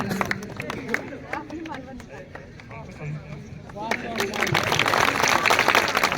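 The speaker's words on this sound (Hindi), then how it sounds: "जोरदार तालियों से स्वागत किया जाए" An audience at a felicitation ceremony for returning Indian army Agniveer trainees bursts into clapping that swells into loud, dense applause, with someone speaking over the start.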